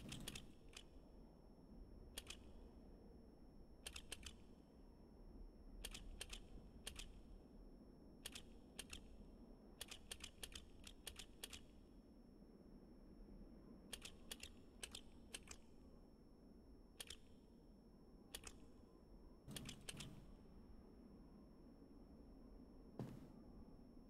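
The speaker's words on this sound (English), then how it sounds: "Let me type in the second one." Quiet keystrokes on a computer keyboard come in short scattered bursts of clicks over a low room hush.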